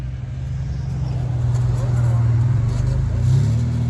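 Cars on a busy street during a festival evening produce a steady low engine rumble that swells as vehicles pass close by, with people talking nearby.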